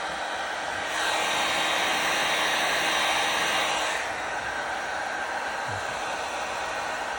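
A heat gun blows steadily while warming a vinyl M Performance decal on a BMW 4 Series; the broad airy hiss swells louder for about three seconds, then drops back to a lower continuous rush.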